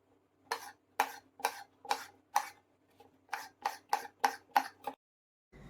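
Kitchen knife cutting eggplants in half on a board, a rhythmic series of about ten crisp, evenly spaced cuts in two bursts, close and clear with no talking.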